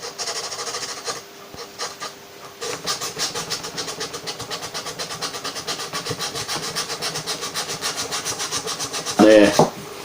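Rhythmic rasping strokes of a file or rasp shaping a wooden guitar headstock, steady and close, with a brief harsher scrape near the end.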